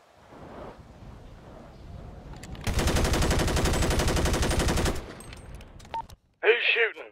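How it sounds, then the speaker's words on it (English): A dense burst of automatic gunfire from a FiveM purge-night game session, roughly two seconds of continuous rapid shots, loud and sustained, preceded by faint background noise and followed by a short voice. "Who's shooting?"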